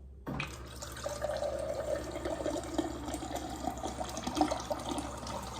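A GE Profile refrigerator dispenser autofills a glass through a newly replaced water filter: a steady, close hissing stream that starts abruptly and runs on without a break.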